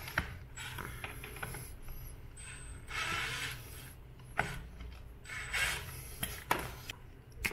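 Bolts on a Bafang mid-drive electric bike motor mount are tightened with a wrench, giving soft ratcheting clicks, metallic creaks and scraping, close and fairly quiet, with short pauses between turns.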